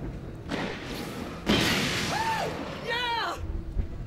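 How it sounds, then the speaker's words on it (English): A flare gun fires in the video game Alan Wake Remastered: a single sharp, loud burst with a whooshing flare trail. It is set among other game noises and rising, warbling tones. "Shoot the flare, Barry"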